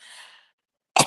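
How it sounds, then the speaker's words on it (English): A person clears their throat with a short raspy rumble, goes quiet for a moment, then gives one sharp, close cough. "let me clear my throat."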